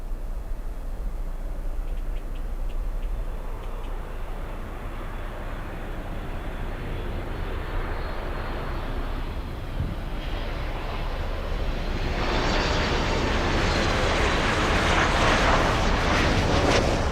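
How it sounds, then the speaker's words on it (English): A Southwest Airlines 737 landing at Miami airport, arriving from Ohio, gives a broad, steady jet rumble that swells into a louder, hissing roar as it comes close. "This is Southwest Airlines flying in from Ohio."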